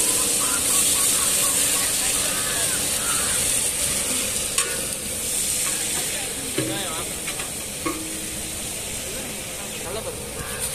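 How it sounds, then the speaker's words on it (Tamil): Onions frying in a pan while cooking a mint dish, a steady loud hiss and sizzle filling the whole stretch, with occasional utensil scrapes and a voice speaking over it. "இப்ப வெங்காயம் போட்டுக்கலாம்."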